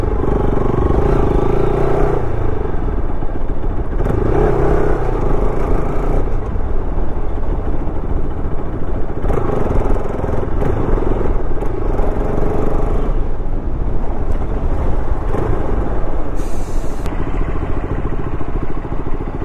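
A Bajaj Pulsar RS200 sport motorcycle accelerates on a muddy road after heavy rain, its engine loud and close throughout with repeated revs rising and dropping as gears change, wind noise riding over it.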